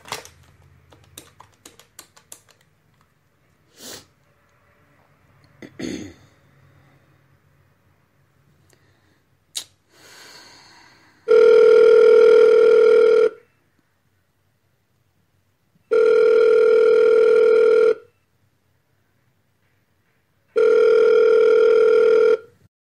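Telephone call in a Bengali audio drama: a burst of rotary-style dialing clicks and taps, then three loud, steady ringing tones spaced evenly apart, heard alone with no talk.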